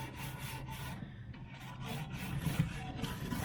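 Stiff bristle brush scrubbing the grate of a Big Green Egg grill, a steady rough rasping scrape in continuous back-and-forth strokes, close and fairly quiet, with no one talking.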